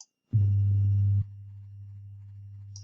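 A pure, low electronic tone switches on, holds loud for about a second, then continues more quietly until the end.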